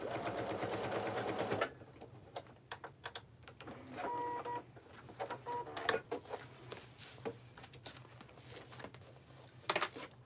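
A sewing machine bastes tote bag pieces with a short continuous run, followed by scattered clicks, taps and brief stitching bursts as the fabric is handled.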